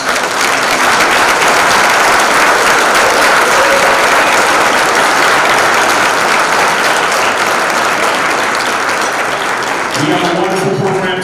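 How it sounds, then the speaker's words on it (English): A large audience at a school district athletic Hall of Fame ceremony gives honorees a loud, sustained round of applause that fills the space, with a voice starting up near the end. "Let's give our Hall of Fame honorees a tremendous"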